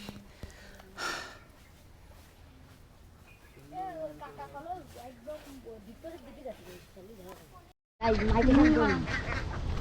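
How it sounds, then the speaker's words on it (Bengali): Many ducks quacking and honking in a rural pond area, a busy run of calls mid-clip, then a louder burst of clamor at the end, with someone talking over parts of it. "প্রচুর হাঁস"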